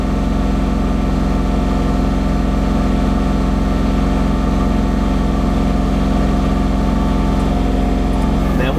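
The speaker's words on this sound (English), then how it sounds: "I'm gonna stop pushing down but continue to let the auger run here for a little bit to clean the dirt out of the hole" A Land Pride SA20 low-flow hydraulic auger runs on a compact tractor, spinning to clear dirt from a hole. The engine drones loud and steady with a constant mechanical hum, and a voice speaks over it.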